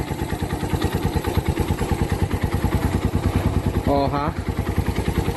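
A repaired Suzuki Thunder 125 motorcycle, with its carburetor diaphragm replaced, idling close by with a steady, even thumping beat; a man briefly exclaims over it partway through.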